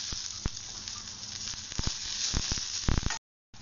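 Sliced onions fry in hot oil in a pan, giving a steady close sizzle and hiss with a few sharp crackles and pops, then a sudden cut to silence near the end.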